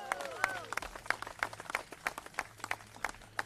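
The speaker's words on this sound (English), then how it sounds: "So let's give them a round of applause also" A small audience claps at an outdoor Native American monument dedication, with sparse, irregular hand claps spread evenly through a few seconds, fairly close, as a voice speaks briefly at the start.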